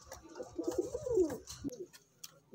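Golden pigeons coo in a soft rolling burst, close by, with a few faint ticks and clicks around them.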